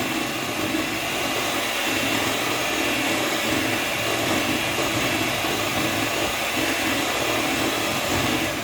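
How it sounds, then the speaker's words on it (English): An older electric mixer whips glycerin body wash into foam, giving off a steady, loud, unbroken motor whir with a harsh, airy hiss and no break for the whole stretch. "Now this is an older mixer."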